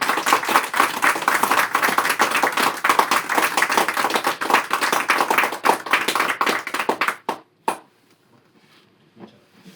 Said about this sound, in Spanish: os pido un aplauso en recuerdo y reconocimiento de Ángel Torres Quesada.